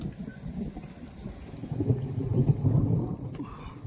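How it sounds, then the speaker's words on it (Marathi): Heavy monsoon rain falls steadily over open farmland, a continuous low rushing wash with a faint rumble, while someone talks quietly beneath it. "इकडून वाजत आलाय ते पाऊसच वाजतोय"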